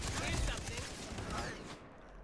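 Rapid gunfire bursts in the Far Cry 3 co-op campaign, Redemption DLC, crackle densely and loudly for about two seconds before tailing off, with players talking over the shooting.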